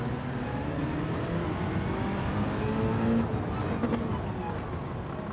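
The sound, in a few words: touring car engine in Gran Turismo racing video game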